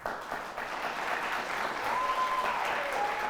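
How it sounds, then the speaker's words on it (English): Audience applause for the North Boone Vikings quiz bowl team, a sustained round of clapping from a crowd that holds steady for a few seconds, with a faint tone in the background. "Let's have a round of applause for our first competitors, the North Boone Vikings."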